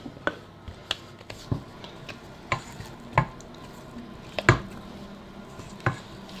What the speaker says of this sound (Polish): wymieszać pianę z białek z ciastem